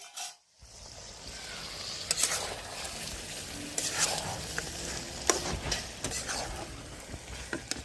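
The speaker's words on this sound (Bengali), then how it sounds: "তো বন্ধুরা আমার তেল ছেড়ে দিচ্ছে মাংস" Meat frying in oil crackles and sizzles up close while being stirred, with intermittent scraping strokes and louder bursts spread through the steady hiss after a brief silent start.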